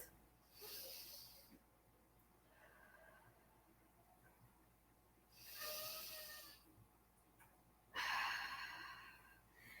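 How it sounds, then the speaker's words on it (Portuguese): A person takes slow, deep belly breaths, three long airy inhales and exhales with quiet pauses between, close and soft. "Quando eu respiro profundamente, minha barriga respira junto."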